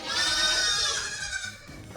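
A goat on a milk stand gives a loud, wavering bleat lasting over a second, close by, then trails off into quieter shuffling.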